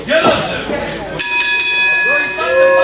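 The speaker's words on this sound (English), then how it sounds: "The bell rings and we are underway with our main event of the evening" A wrestling ring bell rings out sharply to start the main event at a live independent wrestling show, sounding over an announcer's voice and crowd noise, with a second fainter ring following.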